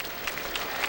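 Crowd applause at a college football game, Hawaii Warriors versus Boise State, as an injured player is helped up; steady distant clapping with a few louder swells, brief and without talk.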